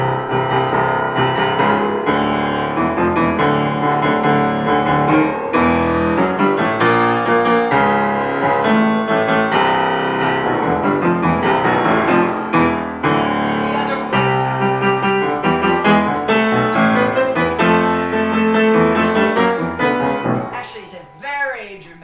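Solo piano plays the fugue subject from a Schubert finale, a dense continuous passage ranging across the keyboard with steady rhythmic drive, close and full for about twenty seconds, with no talking.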